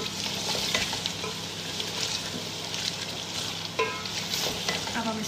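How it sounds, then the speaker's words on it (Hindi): Chicken nihari stir-frying with ground nihari masala in a pan: continuous close sizzling and frying with a spoon scraping and stirring through it, steady and fairly loud, with no talk. "अच्छे तरीके से हम करेंगे इसकी भुनाई।"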